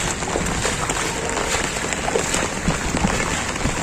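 Heavy rain pours over an outdoor fairground in Rajkot, a dense continuous hiss with splashy footsteps wading through standing water, steady and close throughout.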